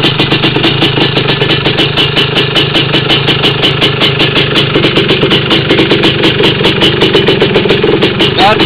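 Honda TRX 250R ATV with a fresh top end idling after a cold start, a loud, close two-stroke engine putting out a fast, even, rattling beat throughout.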